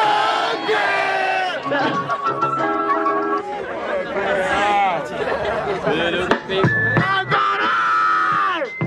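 A crowd at a rap battle in Barueri, São Paulo shouts a loud chant in unison, with yelling voices and excited chatter mixed throughout.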